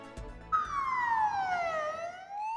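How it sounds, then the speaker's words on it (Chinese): A piercing alarm siren wails alone after a brief low thump, one loud sustained tone sliding steadily downward in pitch before holding steady at the end. "刺耳的警报声"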